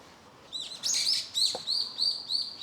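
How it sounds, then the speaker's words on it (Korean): Small birds in large, very old trees give bright, repeated chirps and short trills. The calls are fairly close and clear over quiet outdoor background, and one soft knock is heard. "여기가 나무가 큰 나무가 많거든요 엄청 오래된 나무 그래서 새들이 여기를 진짜 좋아해요"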